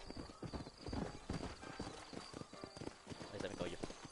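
Horse hooves clip-clop steadily in a video game while a neigh rings out, all under continuous talk from a player.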